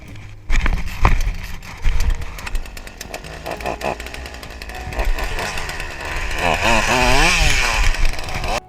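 A chainsaw runs steadily, its engine revving and buzzing loudly at close range, with pitch rising and wavering toward the end.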